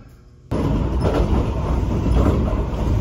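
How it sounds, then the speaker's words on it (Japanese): Inside a Kintetsu semi-express train bound for Gose, a sudden loud rush of rolling rumble and wheel noise begins and stays steady as the train arrives at a station near the Osaka–Nara border. "列車は上野大使駅に到着。"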